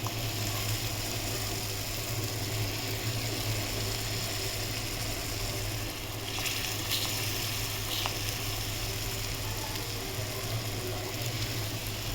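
Pitha cakes for Bohag Bihu frying one at a time in hot oil, a dense, continuous sizzle and bubbling that stays loud and even throughout with no voices.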